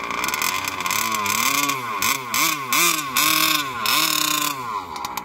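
A Losi 5T fifth-scale RC car's small gas engine revs up and down in repeated throttle blips, a loud close buzzing whine rising and falling in pitch several times, with no talking.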